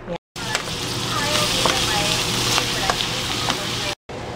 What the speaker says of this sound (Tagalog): Tapos, igigisa ko na lang siya.